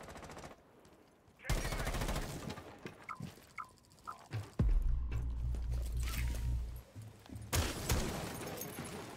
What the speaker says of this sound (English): he's shooting me through the floor